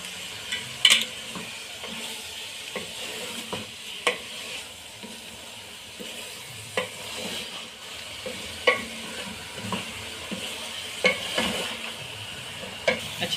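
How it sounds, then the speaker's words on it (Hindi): Chana masala for Lahori cholay sizzles steadily in a pan as a spoon stirs it, with repeated scraping knocks against the metal every second or two, close and fairly loud with no talking. "इसे 2 से 3 मिनट भूनेंगे ज़रा इनको।"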